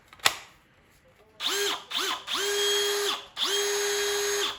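Cordless drill driving a hole, run in four close bursts of rising and falling motor whine after a single sharp knock, the later two bursts held longer at steady speed.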